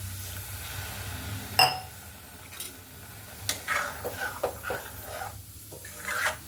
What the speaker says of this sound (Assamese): আৰু ইয়াত ভাজি দিওঁ কনটেক্স মিল্ক